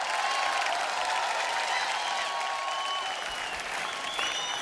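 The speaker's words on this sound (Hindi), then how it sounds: "जोरदार तालियां उन दोनों के लिए।" Sustained audience applause greets two guests invited onto the stage at a Hindi-language event, a dense, steady wash of clapping from a sizeable crowd that holds at an even level throughout.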